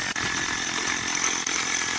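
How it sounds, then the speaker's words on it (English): A hammer drill grinds steadily through a concrete curb, a loud continuous buzzing roar close by with only a couple of brief dips, no voices over it. "the biggest tip I can give you about a hammer drill is keep drilling"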